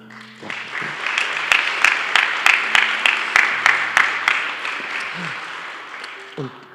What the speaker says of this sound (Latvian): lieli brīnišķīgi aplausi visiem